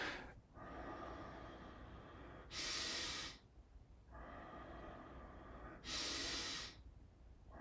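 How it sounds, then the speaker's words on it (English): Deep Wim Hof style breathing: two long, forceful inhalations, each roughly a second, loud and close, separated by quieter stretches of low background sound. "You can draw the breath in."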